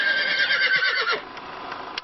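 A horse whinnies loudly and close by, one long quavering neigh of about a second that trails off into quieter breathy noise, with no talking.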